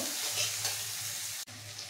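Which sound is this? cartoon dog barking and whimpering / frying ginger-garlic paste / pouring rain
frying ginger-garlic paste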